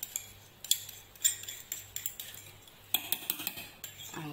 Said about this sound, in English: So we just want to stir in the oats